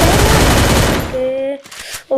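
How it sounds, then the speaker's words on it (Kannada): Dense burst of automatic gunfire from the Garena Free Fire battle royale game, loud and continuous for about a second, then cut off, leaving a steady tone and a final sharp hit. "ಯಾರೋ ಮುಂದೆ ಹೊಡ್ತವ್ರೆ"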